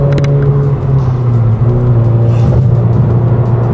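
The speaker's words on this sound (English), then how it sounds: "Also appreciate how great of a driving car the S15 is." A Nissan S15 Silvia with a 6-speed and new HKS coilovers drives along, its engine a steady loud low hum with road rumble heard from inside the car, with no talking.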